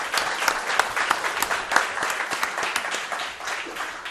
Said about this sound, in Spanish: Os pido un aplauso para estos dos señores que llegan de Tenerife a nuestro programa.